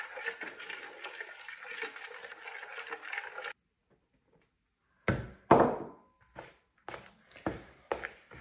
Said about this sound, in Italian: E continuiamo a mescolare